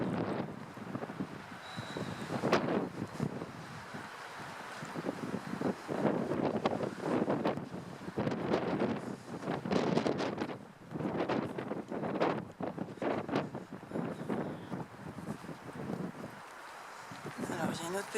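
Wind gusts buffeting the microphone outside a château, a steady rushing roar with rising and falling bursts, with people talking throughout.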